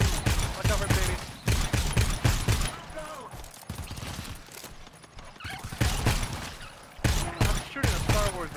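Rapid bursts of video game gunfire crackle in repeated volleys, loud and close, with players talking over the shooting throughout.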